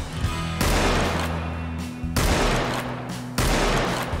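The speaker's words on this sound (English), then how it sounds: "Wow, that's a far shot." Three loud bursts of rapid gunfire in the video game Roblox Wild West, each a dense rattling volley of a second or more, close and unaccompanied by talk.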